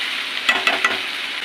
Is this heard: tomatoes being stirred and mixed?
yes